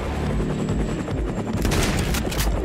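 In a video game action scene, a helicopter's dense rotor roar is layered with rapid bursts of gunfire, loud and continuous, growing busier and sharper toward the end with no talking.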